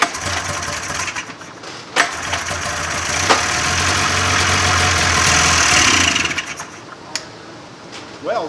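An old 1995 Polaris Indy 440 snowmobile engine coughs and sputters in a shop, a few sharp pops and knocks punctuating a rough, uneven run that swells for several seconds before fading back down.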